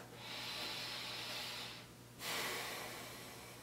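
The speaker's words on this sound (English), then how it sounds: "Literally, taking a breath" A person takes a slow deep breath in and then lets it out. The breath is a long airy hiss, a brief pause, then a stronger exhale, heard close and quiet over a faint steady hum, with no talking.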